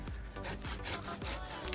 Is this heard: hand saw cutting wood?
yes